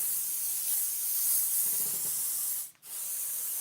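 House fragrance spray hisses in a long continuous close blast, pauses briefly, then hisses again, loud and with no talking.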